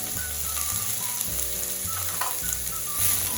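Onions, green chili and curry leaves sizzling loudly in a pan while being stirred, a continuous close frying hiss with soft scraping strokes over a steady low hum.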